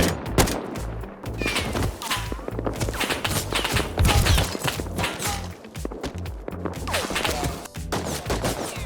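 Repeated gunfire from a fight outside a base in the survival game Rust, with rapid shot bursts and volleys that continue dense and loud for several seconds along with scattered impacts.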